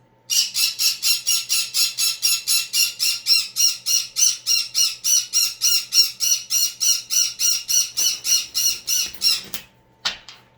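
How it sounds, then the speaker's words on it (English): A pet bird squawks indoors in a rapid, regular burst of harsh, shrill calls, about two per second for nearly ten seconds, loud and close, ending with one last short squawk. "Sorry, it's my bird."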